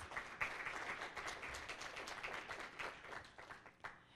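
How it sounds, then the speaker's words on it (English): An audience at a Fire Up 2017 health event claps in a faint, sustained round of applause, steady and diffuse with scattered sharper claps, heard from a distance. "Let's give him a round of applause, please."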